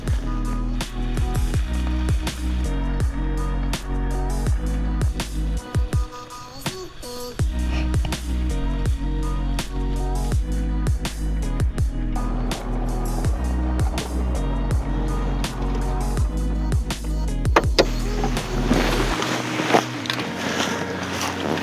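Riding in a cart between fishing ponds, a steady low motor rumble drones continuously with rattles and bumps over the ground, loud and close throughout.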